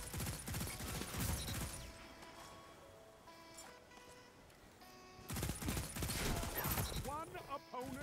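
Pulse rifle fire in a competitive Trials match of a shooter video game: rapid, dense bursts of gunfire at close range, pausing briefly in the middle before another sustained volley, with game effects and a voice mixed underneath.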